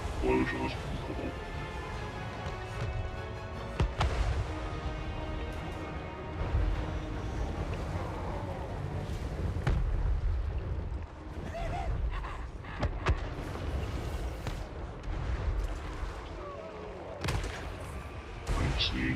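Booming explosions ring out in a Total War: Warhammer 3 battle with Chaos Dwarf magma cannons, rumbling blasts layered over continuous battle noise while a voice talks throughout.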